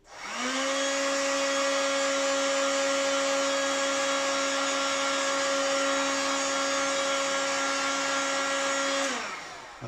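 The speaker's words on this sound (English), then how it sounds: "Apply heat with a gun." A heat gun blows hot air over tissue on Doculam film covering the tail surface of a Nieuport 24 model aircraft, a steady loud whirring whine that runs about ten seconds before winding down.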